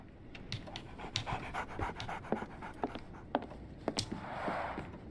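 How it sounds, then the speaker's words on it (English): A dog pants in the video game Sherlock Holmes The Awakened, giving quick, repeated breathy huffs in an uneven rhythm, fairly close and moderately loud, with no voices. "So, Barnes has a dog now."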